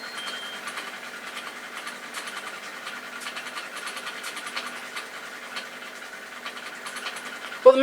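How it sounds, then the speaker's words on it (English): An electric motor, apparently in a washer or dryer, keeps whirring with a steady, faint rattling buzz after its drive belt has come off, running evenly throughout before a brief louder knock at the end. "But the motor's still working"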